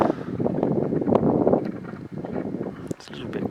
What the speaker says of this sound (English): It's a little bit windy standing in this doorway